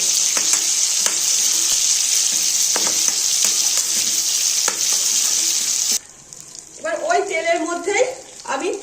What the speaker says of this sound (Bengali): তেজপাতা শুকনো লঙ্কা দারচিনি লবঙ্গ এলাচ ফোড়ন দিয়ে দিলাম